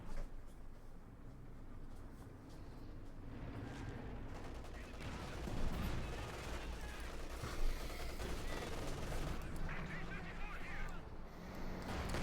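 Tank gunfire and battle noise in the Company of Heroes 2 game, a dense continuous wash of distant shots and explosions, with a couple of sharper louder blasts standing out.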